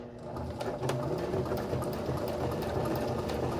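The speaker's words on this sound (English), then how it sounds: "So we will stitch a straight line all the way down." A sewing machine stitches a straight line down a piece of fabric, a close, steady, fast mechanical whirring and clatter that runs without a break.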